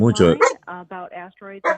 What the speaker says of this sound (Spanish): Este es mi perro.